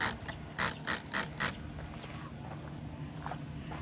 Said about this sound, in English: So I'm just gonna give this a spray of the hydrogen peroxide water.